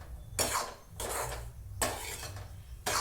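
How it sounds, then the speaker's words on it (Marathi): Semolina roasting in a pan for upma gets stirred and scraped, giving repeated close bursts of gritty scraping and metal-on-pan clatter with short pauses between strokes. "मोठा वेग असल्यामुळे मस्त रवा भाजत आहे."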